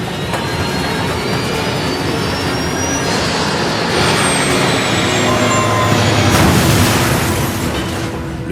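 A passenger jet roars low overhead above a residential neighborhood in a steady, loud wash of engine noise that swells toward the end, with no talk.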